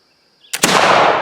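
A single loud, close flintlock black powder shot from a Lyman Great Plains Rifle, a brief flash-pan crack then a heavy boom with a long rolling tail after a quiet lead-in, fired at water bottles on an outdoor range.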